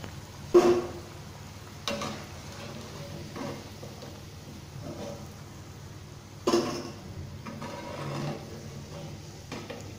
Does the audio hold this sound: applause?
no